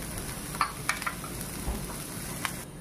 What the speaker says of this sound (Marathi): थोडंसं तेल, पाच 6 पाकळ्या लसणाच्या आपण याच्यातच भाजून घेणार आहे